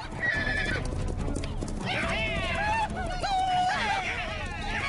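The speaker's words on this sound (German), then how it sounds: "Sie wollen die wilden Mustangs vor den Felsen einkesseln." Wild mustangs gallop with rapid clip-clop hoofbeats and loud, repeated whinnying neighs in an animated cartoon scene, a dense herd close up with voices over the sound.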